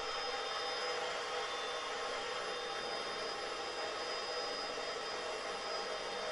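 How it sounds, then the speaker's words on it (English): A steady, high-pitched whine of a power drill runs continuously at a constant pitch, close and unbroken, with no talking. "That's really a sharp drill."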